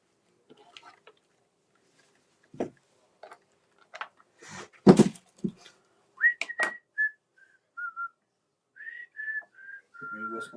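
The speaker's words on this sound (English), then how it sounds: "She always whistles while she works." A woman whistles while sewing at home, with short, scattered melodic notes and brief pauses between phrases, near and fairly clear, mixed with light handling noises and a few soft clicks.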